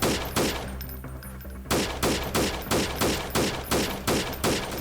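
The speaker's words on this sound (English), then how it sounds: "I'm just blind firing at the moment, just to maybe offer some suppression" Blind suppressive gunfire in the game Freeman Guerrilla Warfare, an opening burst followed by a short pause and then a steady run of loud, evenly spaced single shots about every half second.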